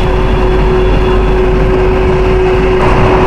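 A steady, loud low rumble of a Russian Arctic train to Murmansk rolling along its tracks, continuous throughout with a faint constant hum and no talking.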